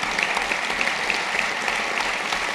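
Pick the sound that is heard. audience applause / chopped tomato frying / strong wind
audience applause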